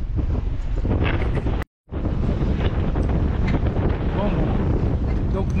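Wind roars steadily across a sailboat's sail under sail off Port-Fouesnant toward the Glénan islands in Brittany, loud and continuous, broken by one brief dropout.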